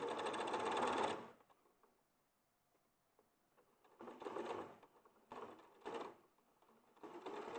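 A domestic sewing machine stitches with blue thread in short bursts, a fast mechanical whirr stopping and starting between quiet pauses, heard close and fairly soft.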